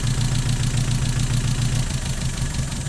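A Mazda MX-5 engine idles close by with a steady, slightly uneven chugging rhythm from a misfire, as if one cylinder is stumbling.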